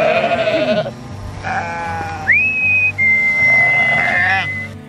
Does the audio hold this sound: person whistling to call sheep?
yes